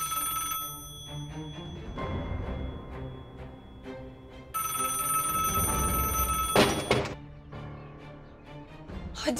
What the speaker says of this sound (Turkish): Hadi ya Kartal, açsana şu telefonu.